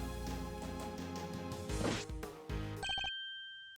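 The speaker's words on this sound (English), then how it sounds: "The moment the phone rang" Telephone ringing in the Ace Attorney Investigations 2 video game, a bright electronic ring with struck hits, ending in a few clear chime tones before silence.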